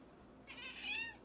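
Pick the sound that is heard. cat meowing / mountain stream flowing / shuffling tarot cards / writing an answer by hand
cat meowing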